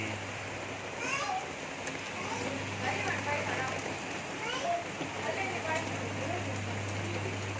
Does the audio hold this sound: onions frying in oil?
no